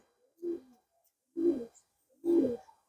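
Pigeons coo close by in three separate, evenly spaced throaty calls, each a little louder than the last, with quiet between them.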